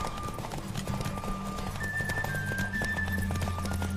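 Rapid hoof clip-clops of a galloping horse during a horse race in the video game The Witcher 3: Wild Hunt, steady and close, over a low continuous hum and occasional whistle-like tones.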